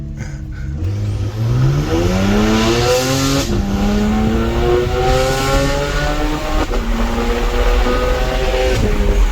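Stage 2 BMW E92 335is with an HKS blow-off valve revving hard close by, a loud, continuous engine note sweeping up and down through several rises in pitch, with a brief sharp whoosh near the start.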